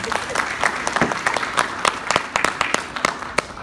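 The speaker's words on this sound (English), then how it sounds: "Let's give Priyanka a round of applause." A classroom audience applauds Priyanka after her Google Drive presentation: dense, steady clapping from a small group of children, fairly close, with scattered louder individual claps and a faint murmur of voices underneath.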